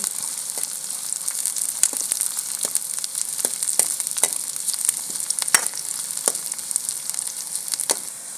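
Onions frying in hot oil in a pan for Punjabi-style veg biryani, a dense, continuous crackle and spatter with scattered sharp pops, close and fairly loud with no voices.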